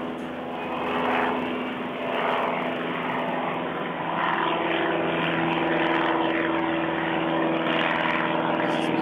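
A propeller airplane drones loudly overhead about a mile from an airport, a steady buzzing engine roar that swells and stays strong throughout.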